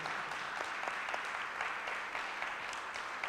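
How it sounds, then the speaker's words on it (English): An audience at a Sunday gathering giving a round of applause, dense steady clapping from many hands sustained throughout, moderately loud and close. "Let's give him a round of applause."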